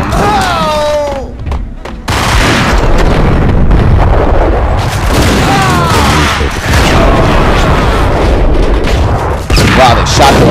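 Dense, loud gunfire from the Max Payne video game, with heavy booming shots and thuds crowding together almost without pause, and shouting game voices mixed in.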